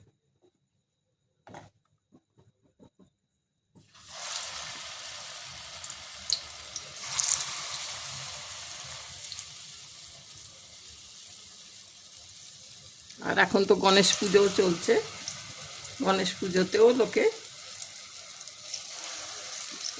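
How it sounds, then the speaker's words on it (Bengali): Mango fritters (aam er pua) frying in a pan make a steady hissing sizzle that starts after a few quiet seconds and swells louder near the end, with someone talking over it. "এই যে এতটা ভাজা হলো, আরো কিছুটা ভেজে নিচ্ছি"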